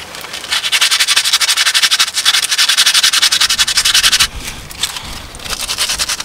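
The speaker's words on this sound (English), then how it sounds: "we'll add masking tape to protect the wheel, and then we sand it down" Alloy wheel curb rash being sanded by hand with 120 grit emery cloth, loud close rapid back-and-forth rasping strokes in a steady rhythm, pausing briefly before resuming.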